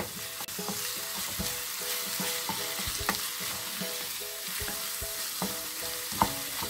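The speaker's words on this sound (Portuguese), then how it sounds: "Vou deixar dar mais uma fritadinha." Banana peel hash fries in a pan with beef stock and gets stirred, a steady close sizzle with occasional scraping stirs and clinks, and no voices.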